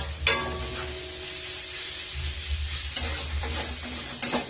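Spice paste for a broccoli dish sizzles steadily in a hot pan while being stirred, with scraping strokes of a spoon against the pan rising and falling over the continuous frying hiss; no voices.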